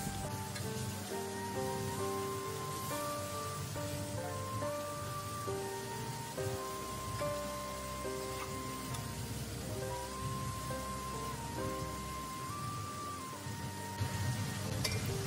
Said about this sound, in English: Fry the lobsters for approximately 4 minutes